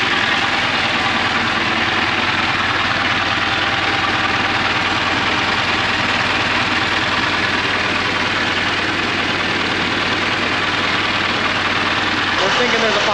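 An International tractor engine running steadily just after a new battery went in, a loud, close, continuous idle with a low throbbing rumble that holds for the whole stretch, no voices.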